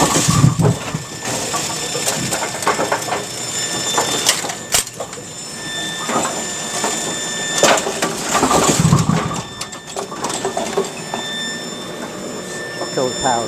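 A Brunswick bowling pinsetter machine cycles through its motions, a loud mechanical run of clanking, rattling and thudding with a motor hum underneath and a rhythmic repeat, heard alone without talk.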